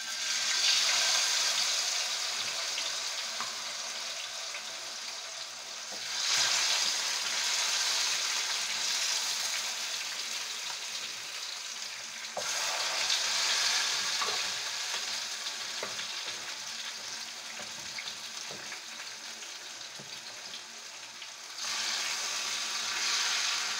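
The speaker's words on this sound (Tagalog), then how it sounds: "Pag mainit na po yung ating mantika, ilagay na po natin yung ating na-marinate na chicken." Marinated chicken frying in hot oil, a steady broad sizzle and crackle that rises in bursts as pieces are stirred or turned, close and continuous with no voices.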